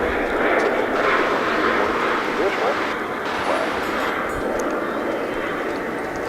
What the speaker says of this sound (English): There goes the Finnair flight.